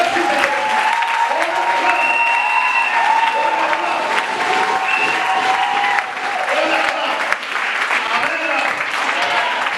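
A Pentecostal church congregation claps and cheers in praise, loud continuous applause mixed with voices and sustained tones from music or singing underneath, briefly dipping near the end.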